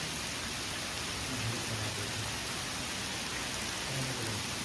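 Dense, steady downpour of heavy rain, a continuous close roar of drops with no voices.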